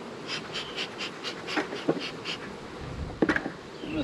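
Honey bees buzz around beehive boxes during a colony conversion to double deeps, a dense, steady, close drone with a few louder buzzes passing near, and no voices.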